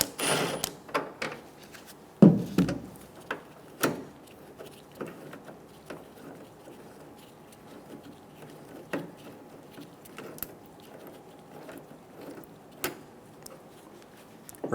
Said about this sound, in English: Remove the bolt for the cable.